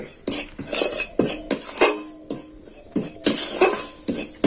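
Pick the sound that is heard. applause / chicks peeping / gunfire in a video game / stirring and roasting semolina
stirring and roasting semolina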